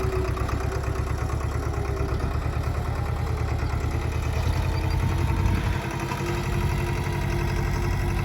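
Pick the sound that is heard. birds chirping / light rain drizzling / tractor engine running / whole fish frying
tractor engine running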